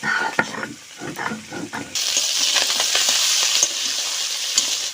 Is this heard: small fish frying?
yes